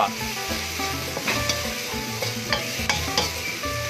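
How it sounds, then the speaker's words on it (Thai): Garlic and fresh chili fry in a hot pan as aromatics for a stir-fried rice-field crab dish in American-style sauce. A loud, dense sizzle carries on throughout, with several sharp stirring clicks on top. "ใส่เครื่องนะครับกระเทียมพริกสดแล้วก็"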